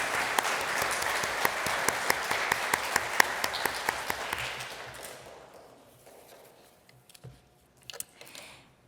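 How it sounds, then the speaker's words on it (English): A church congregation at a Sunday morning service applauds the youth: steady clapping with a few sharp individual claps standing out, fading away after about five seconds into near quiet with scattered faint sounds. "I wonder if we can give them a round of applause"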